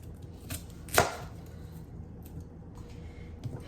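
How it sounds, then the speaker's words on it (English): A knife cuts through an onion on a board, one sharp close chop standing out among a few quieter taps and a faint knock or two. "then I think I'm just gonna cut it in half this way"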